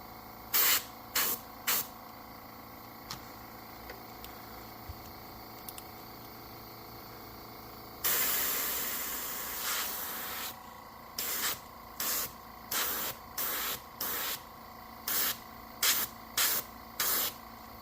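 A paint spray gun mists a swimbait in short, evenly spaced hissing bursts, with one longer continuous spray in the middle, close and fairly quiet.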